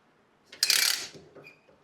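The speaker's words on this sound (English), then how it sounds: "Pipe clamps." A single quick ratcheting zip of a pipe clamp being cinched tight during garage cabinet frame assembly, close and brief against a quiet room.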